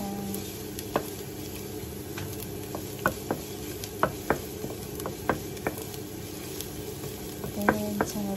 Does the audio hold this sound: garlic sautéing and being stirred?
yes